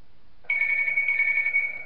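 An incoming phone call rings in the horror game Tubbyland Act 1 Rebuilt, a steady electronic ring tone that starts abruptly and holds loud and clear with no talking.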